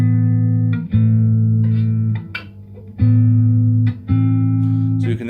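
A Fender Jazz Bass V Deluxe five-string bass with bright pickups plays sustained low notes with a clear, open tone, a few phrases separated by brief pauses and string noise, close and loud.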